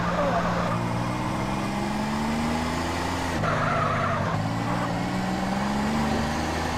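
Cars skid and drift with engine drone and tire squeals in the video game GTA San Andreas, steady and loud, with a player talking over it.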